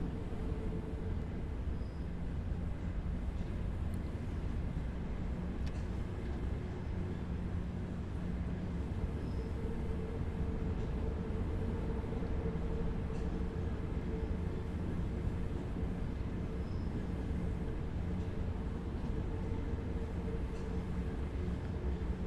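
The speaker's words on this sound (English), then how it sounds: "I finally got this red and white piece of shit toothpaste banana train moving." An Akulok AL1 subway train runs steadily in Subway Sim 2, a continuous low rumble and rolling drone with a faint hum, no talking heard.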